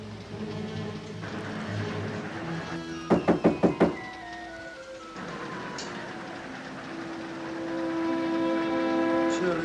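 Five quick, sharp knocks on a door sound close and loud in a 1946 Sherlock Holmes film set aboard a train, framed by steady rumbling and a musical score.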